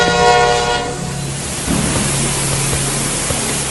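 A train on a flooded railway sounds a long horn blast, followed by a broad rushing roar of the train and water that continues steadily, with no talking.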